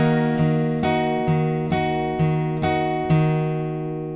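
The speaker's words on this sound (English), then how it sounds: "we're going to strum the chord first, we're going to hit the bass note, and then with an up pick, hit the 2nd and 3rd strings." Guitar picking pattern for a song: a strummed chord, a bass note, then light up-picked notes on the 2nd and 3rd strings, repeating in an even ringing rhythm with no talking.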